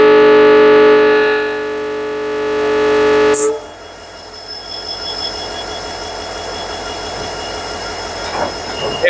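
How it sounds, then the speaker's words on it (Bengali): A WDP4 diesel locomotive hauling a track-laying train eases backwards, opening with a loud sustained screeching wheel squeal that cuts off, then a lower steady rumble and rolling clatter of the train. "একটু পিছিয়ে যাচ্ছে ট্রেনটি।"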